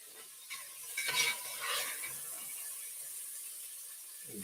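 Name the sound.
beef seared and stirred in a pan for barley soup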